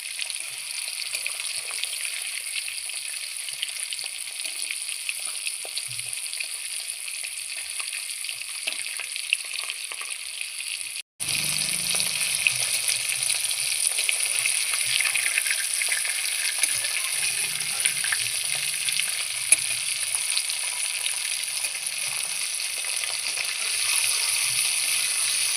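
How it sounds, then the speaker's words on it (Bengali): Bhangan fish pieces fry in hot oil in a kadai with a steady, dense sizzle that runs throughout, broken by a brief cut partway, then resumes with faint low stirring thumps. "এবার আমি মাছগুলো ভালোভাবে উল্টে পাল্টে লাল লাল করে ভেজে নেব"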